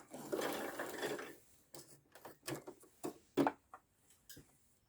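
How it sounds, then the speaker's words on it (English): A sewing machine runs a few short stitches to lock the end of a buttonhole bar tack. A dense burst of needle chatter is followed by separate quiet mechanical ticks and clicks, close up and fairly faint. "I'm just going to do 2 or 3 stitches at the end of the bar tack"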